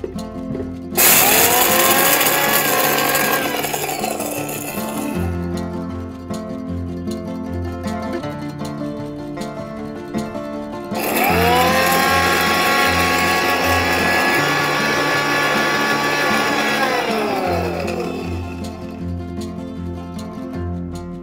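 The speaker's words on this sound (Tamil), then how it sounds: "தண்ணி ஊற்றி நல்லா பேஸ்ட்டாகவே அரைச்சிருங்க." A mixer grinder grinds paste, whirring loudly in two long bursts, each spinning up and winding down, with a quieter pause between them.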